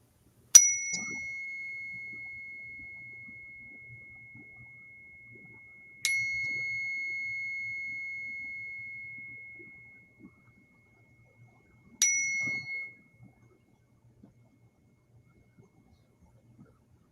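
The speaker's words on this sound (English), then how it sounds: "I'm going to invite the ringing of our bell." Three clear, pure bell strikes spaced about six seconds apart, each ringing out and slowly fading in a quiet room.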